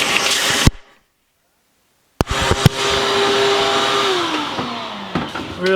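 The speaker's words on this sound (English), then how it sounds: "you go ahead and vacuum some of that loose residual" A vacuum cleaner roars loudly, cleaning residue during a Honda Civic fuel pump replacement, cuts off into a pause of silence, then starts up again with a sharp click and drones steadily, its pitch sliding down slightly.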